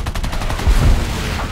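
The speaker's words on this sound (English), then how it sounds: "He's shooting at us really far away." Aircraft machine guns firing in War Thunder during a realistic air battle with a CR.32 quater biplane, a loud rapid burst of shots over constant engine drone, peaking briefly midway.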